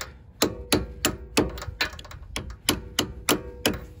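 A metal socket taps a pressure washer pump seal into place during a seal rebuild on a DeWalt DXPW3425 with an AAA Simpson pump, giving about a dozen sharp, evenly spaced knocks, close and clear.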